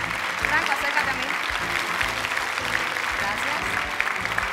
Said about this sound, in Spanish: Aplausos para todos ellos, por favor.